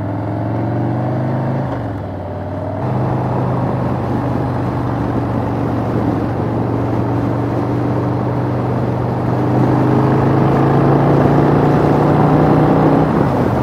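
Motorcycle engine holding steady around 3,200 RPM, recorded from a helmet camera on a rainy ride; a constant loud drone with wind rush, dipping briefly near two seconds, then rising slightly toward the end.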